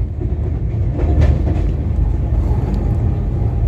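The Howrah–Amritsar Mail, train 13005, runs from Howrah toward Varanasi near Dankuni Junction, a loud, steady close-up rumble with rhythmic wheel clatter and no break.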